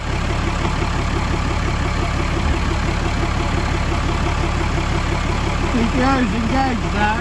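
A loud, steady engine drone comes from a pre-war 250 amp rotary welding plant idling in an enclosed space, with someone talking over it near the end.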